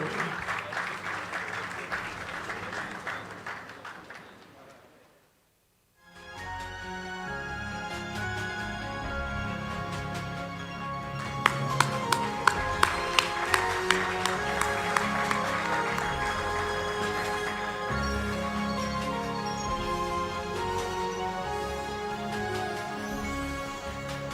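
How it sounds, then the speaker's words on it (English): A crowd applauds a laureate at an award ceremony honoring dignitaries under the Asantehene, loud sustained clapping that drops out briefly near five seconds, then swells again with rhythmic claps and music joining in. "Please give us a round of applause for our laureate, Jer Kofi Jondo."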